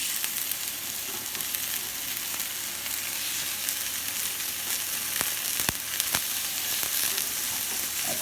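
Thin tuna steaks sear in a hot, smoking pan, giving a continuous, loud frying hiss close up, broken by occasional sharp pops and crackles.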